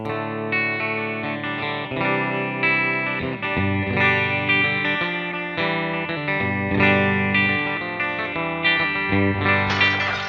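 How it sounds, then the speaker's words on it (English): A Squier Classic Vibe 60s Jazzmaster electric guitar plays bright, plinky, jangly chords and single notes, steady and close, with no voices. "if you still want to hear that, that plink is still there. Real jangly if you like it."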